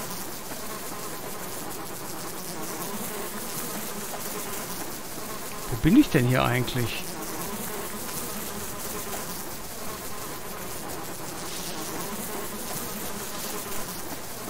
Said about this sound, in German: Ich habe immer noch die Bienen hier.